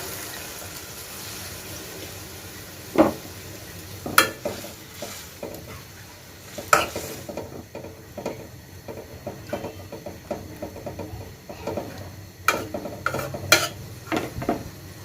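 Water added to kajli fish and eggplant frying in a pan, a low steady sizzle and bubbling with scattered spatula scrapes and clinks against the pan, close and moderately loud.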